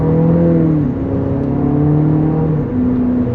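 A 2025 Nissan Murano Platinum accelerates from inside the cabin, its engine note rising steadily through the gears with a brief dip at a shift, loud and continuous.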